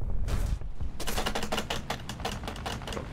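An aircraft gun fires in the War Thunder video game as a rapid, rattling stream of closely spaced shots, near and loud over a low rumble. A brief burst comes first, then a longer one after a short pause.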